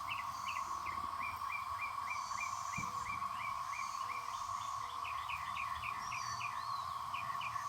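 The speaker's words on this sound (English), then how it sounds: "I just want y'all to hear the cicadas." Cicadas fill the trees around a house in May with a continuous, even droning chorus, while birds chirp in repeated short calls over the top throughout.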